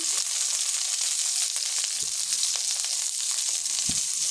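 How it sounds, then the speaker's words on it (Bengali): Pointed gourd (potol) with a pinch of turmeric and salt frying steadily in a pan, a constant bright sizzle with a few soft scrapes of stirring near the two-second and four-second marks, close and alone with no talk. "এটা আমি এখন একটু নেড়ে চেড়ে নেব"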